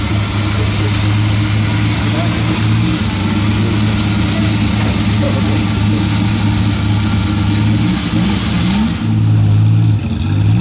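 A Ferrari arriving at the Pebble Beach Concours idles with a steady low engine hum and a brief rev near the end, close and loud, while voices chatter throughout.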